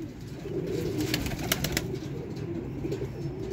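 A flock of pigeons kept for sale, among them a clipped-claw bird, fills the air with steady low cooing, close and continuous, with a few sharp flutters and clicks of wings over the top.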